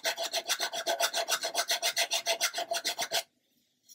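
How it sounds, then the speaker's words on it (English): Coarse nail file rasping over the wooden hull of a 1/64 scale HMS Fly model ship, a quick, even run of about twenty close, loud strokes that stops abruptly into silence. "So I use these coarse nail files to get in for these little small areas"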